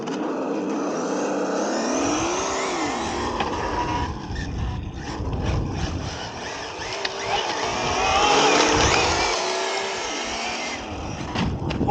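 A Team Associated SR7 RC car with a 1300 kV motor, set to drift mode with an electronic engine-sound generator, gives a loud, continuous synthetic engine drone that rises and falls in pitch as it slides, with no talking.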